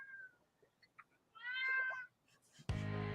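Cat meowing in several short calls, a faint chirp, then a louder drawn-out meow, before an abrupt burst of other sound ends the clip.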